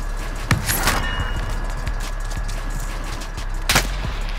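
Gunfire rings out on Rebirth Island in Call of Duty Warzone: two loud sharp shots a few seconds apart, with fainter distant pops and steady game ambience between them.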